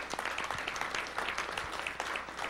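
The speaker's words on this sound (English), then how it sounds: "This man deserves a round of applause." An audience gives a round of applause, with steady clapping from a moderately sized crowd heard at a slight distance.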